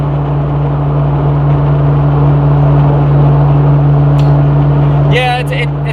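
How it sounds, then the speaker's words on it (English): A Nissan Skyline cruises on the highway at high RPM. Its engine drone is a loud, steady, humming tone that holds throughout, and a brief voice cuts in near the end. "bad part about driving this car any sort of long distance is definitely the drone"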